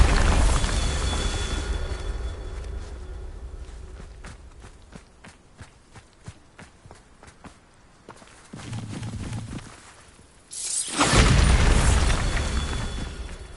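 The Bombarda explosion spell in Hogwarts Legacy: a run of quick footsteps and light taps, then a loud, sudden burst near the end that leaves a rumbling tail.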